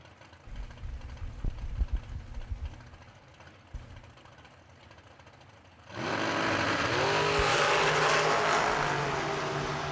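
A 2009 dragster idles with a rough, pulsing engine at a drag strip, then at the midpoint erupts into a sustained, loud, rising roar as it launches down the track.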